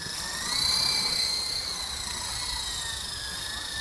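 An Esky Lama V3 radio-controlled helicopter flies, its high whining rotor and motor hum steady with a slight swell, fairly close and alone.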